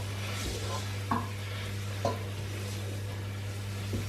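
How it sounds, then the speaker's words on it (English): Onions softening with a spice mix for lamb tagine on gentle heat, a soft sizzle under a low steady hum, punctuated by a few scraping stirs of a utensil against the pan, no talking. "Once you've added the spice mix into the onion, you want to cook it on a gentle heat for about 10 minutes until the onions are soft"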